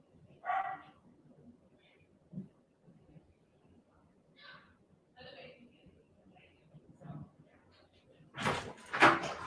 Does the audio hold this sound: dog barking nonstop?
yes